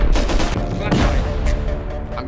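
Rapid gunfire in the survival game Rust, a dense continuous fusillade of overlapping shots and bursts, loud and close, sustained throughout with faint voices underneath.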